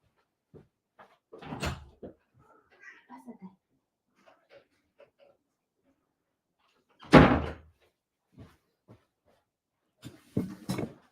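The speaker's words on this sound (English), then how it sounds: "open the door to my cat" A door is opened to let a cat in: scattered handling knocks, then a loud thud around the middle and a few lighter bumps afterward, with a voice talking at times.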